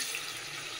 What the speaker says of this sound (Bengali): এবারে যে জল দিয়ে দিচ্ছি, আমি গরম জল রেখে দিয়েছিলাম